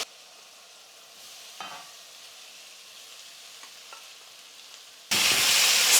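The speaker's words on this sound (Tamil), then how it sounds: "ஸ்டவ்வை மீடியம் ஃப்ளேமில் வச்சுக்கிட்டே நம்ம மிக்ஸ் பண்ணிக்கலாம்" Soaked flattened rice (aval) for upma is mixed in a pan on a medium flame: faint scattered stirring taps over near quiet, then a sudden loud, hissing sizzle fills the final second.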